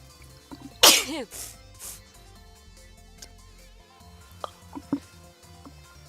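A single sharp, loud sneeze bursts out close to the microphone, followed by a short breathy trailing sound, over quiet game music during a Final Fantasy VII playthrough.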